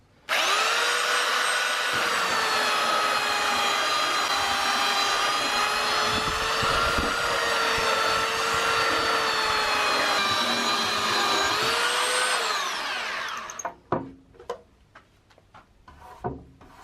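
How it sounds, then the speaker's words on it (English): A power tool drones loudly and steadily for about thirteen seconds while sanding wood for a furniture project in the countryside, its pitch dipping slightly before it winds down, followed by scattered knocks and handling noises. "So the wood now is all sanded"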